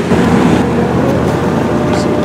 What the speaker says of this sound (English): These rental boats right here pulling off